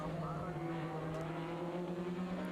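A Formula BOSS race car at the Leinster Trophy in Ireland passes another car into a chicane, its engine a steady droning whine heard at a distance under a commentator's voice.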